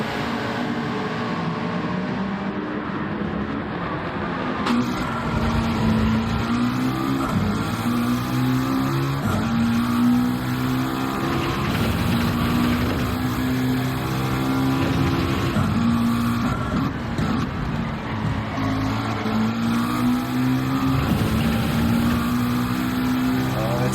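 Race car engines from a GT4 Cup sim race, an Acura NSX and a McLaren running close in the slipstream, drone steadily with rising and falling pitch throughout, loud and continuous.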